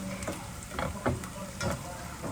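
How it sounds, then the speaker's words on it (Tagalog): Garlic browns in a hot pan for pork adobo, a soft steady sizzle broken by a few brief stirring scrapes, close and fairly quiet, with no voices. "I-brown natin po yung ating yung ating garlic."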